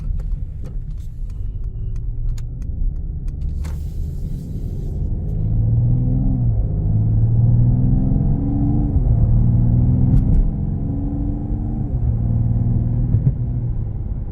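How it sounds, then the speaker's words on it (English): A 2026 Mercedes-Benz AMG GT 53 4MATIC drives along with a low cabin rumble, its engine note rising and stepping down through several gear shifts, steady and close, with no talk. "It's going to be a quick drive, just so you can see the car drive straight, shift, all that good stuff."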